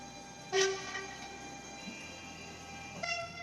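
A TER regional express train sounds a bright, harmonic horn blast, then a second shorter one about two and a half seconds later, over a steady low rail rumble.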